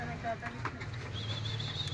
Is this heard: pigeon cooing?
yes